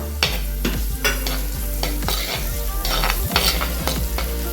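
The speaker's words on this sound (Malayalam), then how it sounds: "അപ്പം നമുക്കൊരു 12 കൊച്ചുള്ളി അരിഞ്ഞതും അതിൻ്റെ കൂടെ ഒരു പച്ചമുളകും കൂടെ ആഡ് ചെയ്യാം." Chopped shallots and green chili sizzle and fry with ginger and garlic in a pan, a steady loud crackle broken by repeated scraping stirs of a utensil.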